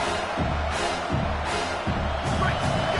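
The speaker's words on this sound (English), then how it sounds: "This crowd knows this defense needs them right now." Football stadium crowd roaring in steady, swelling waves behind a play-by-play commentator talking over it.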